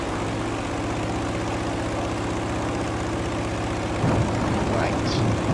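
An American propeller plane flown in Battlefield V, a steady droning engine hum that stays loud throughout and swells slightly near the end.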